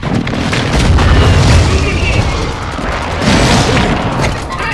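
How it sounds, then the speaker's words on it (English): Heavy booming airstrike explosions in the Warzone battle royale game, a sustained loud rumble with two swelling surges, deep low-end roar throughout and game voices underneath. "Phoenix 2-3, visual on the target, strike inbound."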